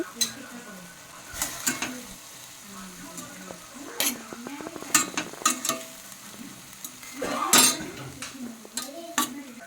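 Drumstick leaves with grated coconut sizzle gently in a pan while a ladle scrapes and stirs, producing soft irregular clinks and scrapes over a steady hiss.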